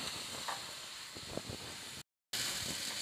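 A spice masala with coriander powder cooks in a pan, a quiet continuous sizzle and hiss briefly cut by a moment of total silence before resuming.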